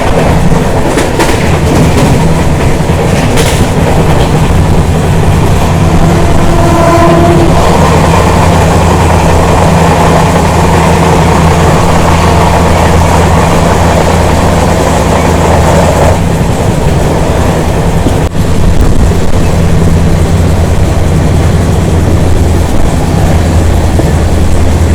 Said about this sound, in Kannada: ಚಾರ್ಮಿನಾರ್ ಎಕ್ಸ್ಪ್ರೆಸ್ ಅಂಬಲ್ಲ ಸ್ಟಾರ್ಟ್ ಆಗಿ ಒಂದು 2 ಮಿನಿಟ್ಸ್ ಆಗಿಲ್ಲ